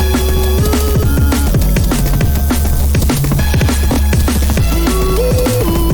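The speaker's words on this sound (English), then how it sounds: "these little stabby, chippy bits" Short, stabby chiptune-style synth hits built from Serum's default saw waves sit inside a dense, loud electronic mix of layered bass, drums and melodic lines, with no voices.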